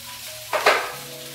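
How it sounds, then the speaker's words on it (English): Chicken for homemade shawarma sautés in a pan on low heat, giving a steady soft sizzle with a brief scrape of stirring partway through. "sauteing on low heat so that it doesn't get burnt easily or so quickly."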